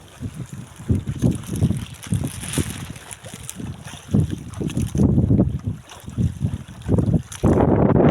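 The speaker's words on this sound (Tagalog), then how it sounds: "Malakas na yung hangin." Strong wind buffets the microphone in gusty rumbling bursts, with a choppy water-and-boat background throughout.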